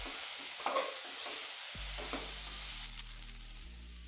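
A pan of drumstick and potato posto being stirred after the lid comes off, a soft sizzle with a few light scrapes of the spoon, fairly quiet and close, followed by a steady low hum from the stove, with no voices.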